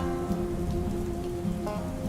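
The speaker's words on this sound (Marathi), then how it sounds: "सकाळपासून पावसाची संतदार चालू होती" Steady rain pattering on a surface, a dense continuous hiss with no pauses, fairly loud and close.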